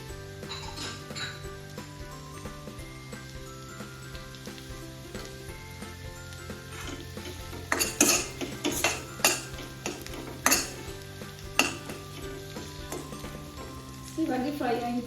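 Onions, green chillies and ginger-garlic paste sizzle steadily in a pan for paneer dum biryani, a constant frying hiss with occasional louder scrapes and clinks of a stirring spoon near the end.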